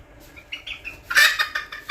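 Bantam chickens clucking close by, a few scattered clucks rising into a louder, agitated burst of squawking calls near the end.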